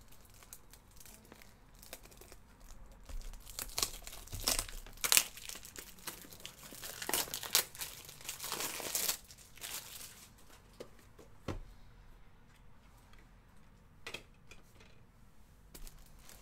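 Foil packs of 2018/19 Panini Cornerstones basketball cards are torn open during a box break, with close, irregular crinkling, tearing and crunching bursts that come and go over several seconds, fairly quiet, with no talk.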